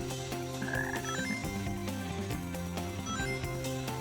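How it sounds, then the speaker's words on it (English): Repeated frog croaks ring out in the rainforest stage of the video game Sonic Heroes, sitting over steady background music with no talking. "I heard a frog."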